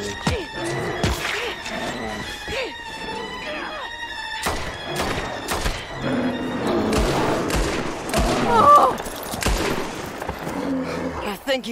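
Gunfire from the Red Dead Redemption 2 video game on PS4 crackles in a rapid, irregular string of sharp shots and heavy thuds, loud and close, with a voice talking over parts of it.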